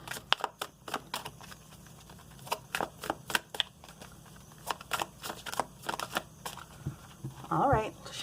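Soft riffling and snapping of cards being shuffled in quick bursts, fairly close, with a brief murmur of voice near the end.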